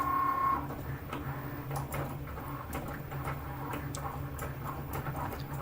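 A Cricut machine cuts a wood veneer letter, producing a low steady motor drone with irregular light ticks and clicks as the carriage moves, close and alone.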